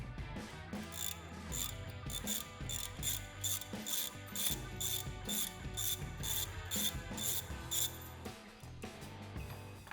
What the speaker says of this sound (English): undo the bolts holding the trigger mount in place on the coupler body.